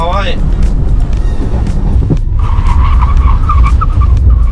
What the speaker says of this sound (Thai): ใช้คำแบบง่ายๆกระทืบเบรกลงไปเนี่ยนะครับ